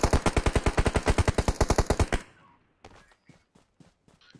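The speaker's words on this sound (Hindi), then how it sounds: "मैं कवर दे रहा हूं यहां से शॉट फायर कवर फायर" Rapid automatic gunfire from the mobile battle royale game PUBG Mobile, a steady burst of about two dozen close, loud shots, followed by scattered fainter shots after a brief pause.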